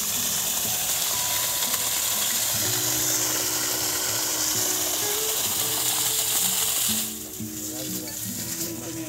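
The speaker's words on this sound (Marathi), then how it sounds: "मोटर चालू झालेली आहे आणि प्रेशर आपण पाहू शकता या ठिकाणी।" A Sadbhav solar pump motor running and pumping water under weak sunshine, a steady mechanical whir with rushing water that drops noticeably in level near the end, with someone talking over it.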